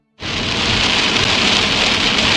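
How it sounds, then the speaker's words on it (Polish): Rain falls hard during a car drive in France, a dense, loud, even hiss that starts abruptly and continues steadily with no talking. "No i we Francji też pada."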